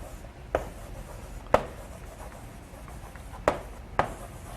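Lecture board writing: four short, sharp scratching strokes at irregular intervals against a quiet room background, with no one talking.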